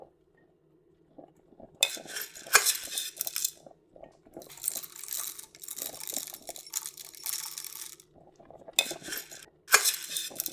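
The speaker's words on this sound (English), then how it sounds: "I spooned a double shot of the crystals into my mug before pouring the water on top." A metal spoon clinks and scrapes against a mug while spooning instant coffee crystals, in short bursts, with small rattles and taps between, close by and fairly loud.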